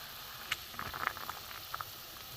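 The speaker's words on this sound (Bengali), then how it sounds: "বন্ধুরা ঝোল তো ফুটে গেছে ভালো" Egg and potato curry gravy simmers in a pot, with faint soft bubbling and a few small pops and patters over a steady quiet hiss.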